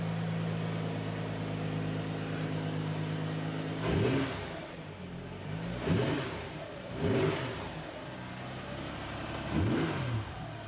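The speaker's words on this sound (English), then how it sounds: "The race car-like engine response." A race-tuned Nissan GT-R R35 engine in a Toyota Hiace van idles steadily, then is blipped hard four times in a row, each rev rising sharply and falling back, loud and close.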